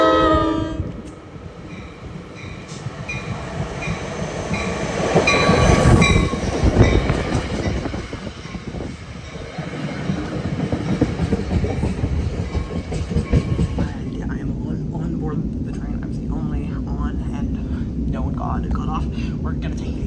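A passenger train arrives at a small, quiet New York area station, rumbling in with a horn blast and clattering, squealing wheels that grow loud mid-clip, then settles into a steady idling rumble.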